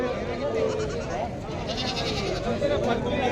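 Goats bleat repeatedly amid the steady hubbub of a busy crowd at the Washim goat market, with people talking nearby throughout.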